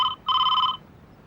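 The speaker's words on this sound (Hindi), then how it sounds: "मैं मालविका की सास को फोन कर रही हूँ।" An outgoing telephone call rings back with two electronic tones, a brief pulse and then a longer one, clear and close, with no voices.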